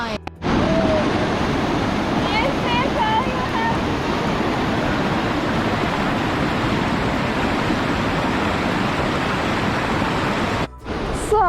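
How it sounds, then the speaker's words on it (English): A strong river current rushes loudly near a waterfall in Bali, a constant broad roar of water close by that fills the whole stretch, with a few faint higher sounds riding briefly on top. "Oh my god, I didn't expect that we have to cross the river. Is very strong current"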